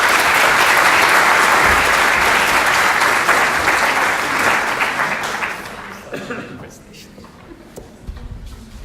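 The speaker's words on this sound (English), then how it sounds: "May I have an applause for Mr." Audience applause at an Islam and Science lecture: a dense wash of clapping that holds steady for several seconds, then thins out and fades, with scattered claps and some talk near the end.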